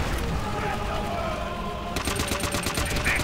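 Rapid machine gun bursts in the Call of Duty 5 (World at War) game, dense rattling fire under a busy battle mix, with a sharper, louder volley kicking in partway and continuing to the end.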